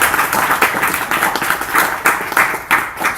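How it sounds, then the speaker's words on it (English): A crowd at a Ram Navami religious gathering with Ram Katha and bhajan singing claps in a sustained round of applause, dense and steady for the whole stretch, with a few louder swells and no talking over it. "give a big round of applause to him."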